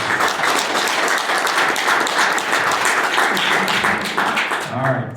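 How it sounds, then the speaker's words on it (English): Applause from a presentation audience fills the room steadily and loudly for about five seconds, then thins out near the end as a voice starts to speak. "So let's give them a round of applause."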